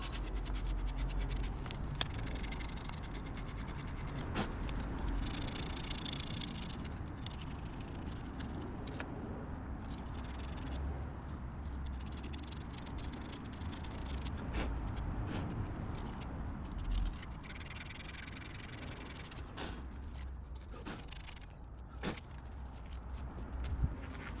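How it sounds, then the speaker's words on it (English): Sandpaper rubs away superglue residue on a rubber tyre sidewall, a close, steady, gritty scratching that goes on for the whole stretch. There are a few soft knocks and brief pauses, and nobody speaks. "I'm first going to sand off any superglue residue remaining from when I tried to glue this flap down."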